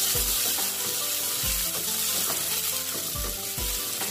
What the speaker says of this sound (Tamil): அந்த பூண்டு நான் ஆட் பண்ணிக்கிறேன் ஆட் பண்ணிவிட்டு நல்லா வதக்கிக்கலாம்